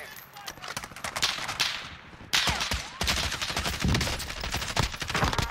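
Sniper fire and other gunshots crack in a Warzone match, with repeated sharp reports and bursts spread across the scene at mixed distances, mixed with busy game noise.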